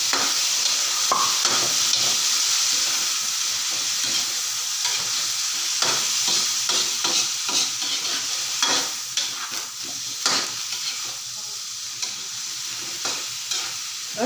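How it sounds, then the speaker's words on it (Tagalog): Shrimp frying in a pan for ginataang sugpo make a loud, steady sizzle throughout, with scattered stirring clicks and scrapes close by and no voices. "Ipa-fried natin ng konti ang hipon."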